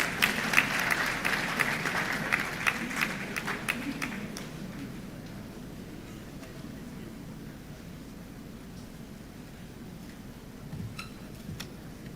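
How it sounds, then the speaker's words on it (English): An audience applauds an awardee at a ceremony, a dense burst of clapping for about four seconds that quickly thins to a few scattered claps before fading into quiet room noise. "Shall we please applaud him?"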